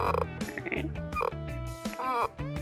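Short rubbery squeaks and creaks repeat in quick bursts, close up and fairly quiet, from a Yamaha FC4 keyboard sustain pedal grinding as it is pressed.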